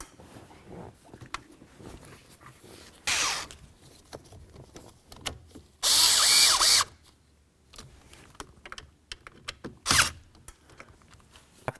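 Power drill or driver running screws into a combination switch on a 1999-2007 Ford F-250, with two loud buzzing bursts, one short and one longer, plus a brief third hit amid quieter handling clicks.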